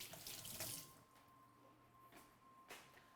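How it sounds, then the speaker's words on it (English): Hands being rinsed under running kitchen tap water, a faint steady trickle with soft splashes and a couple of brief louder bursts, no talking. "Give those hands a little rinse."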